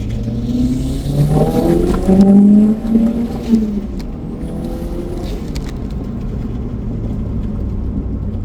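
A Toyota Celica GT-Four ST205 road car on high boost pulls hard in second gear, the engine note rising loudly from inside the cabin before settling into a steady drone.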